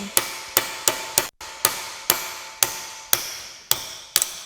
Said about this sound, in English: I'm using a socket to drive the bearing out